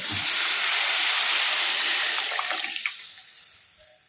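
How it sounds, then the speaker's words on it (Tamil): Tamarind water poured into a pan for a Kerala-style fish curry, a loud continuous splashing pour that holds steady and then tapers off toward the end, with no talk. "அந்த புளித்தண்ணியை விட்டு இனி இந்த புளித்தண்ணி நல்லா கொதிக்கணும்"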